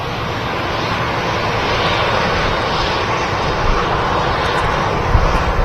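A Ryanair airliner's jet engines roar steadily and loudly on the runway at Manchester Airport, a broad continuous rumble that swells slightly, heard alone without voices.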